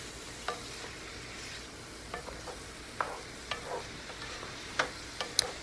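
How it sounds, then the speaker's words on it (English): Green beans and smoked sausage frying in a skillet, stirred with a utensil that scrapes and clicks against the pan in scattered strokes over a steady, faint sizzle. "we're going to mix that up so we can get everything nice and mixed with the smoked sausage and the fresh green beans mixed together"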